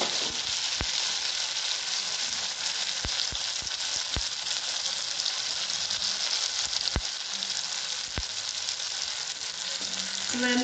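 Okra and onion for bhindi do pyaza fry in a pan with a steady, bright sizzle throughout, punctuated by a few sharp clicks and taps of a utensil.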